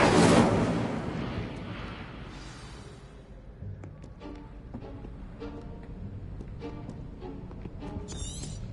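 The Incendio fire spell is cast in a Hogwarts video game: a loud whooshing fiery burst opens, then fades into a crackling, rumbling burn with small scattered clicks.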